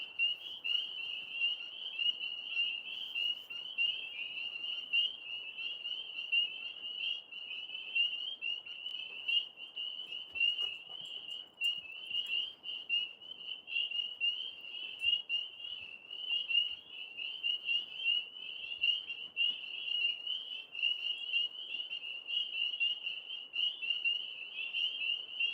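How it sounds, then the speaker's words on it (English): Tree frogs croak from high in a big maple tree outdoors, a dense, steady, shrill chorus trilling without pause and fairly close, with no talking over it. "All those tree frogs are up in this maple tree."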